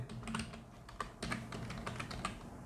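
Typing on a computer keyboard, a quick irregular run of close, crisp key clicks and taps, alone without talk.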